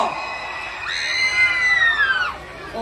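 Audience at a live comedy show shouting and cheering, high-pitched girls' voices dominating a loud, sustained crowd yell that swells for a couple of seconds and then fades.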